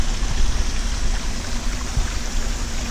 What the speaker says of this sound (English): and the water is dumped in here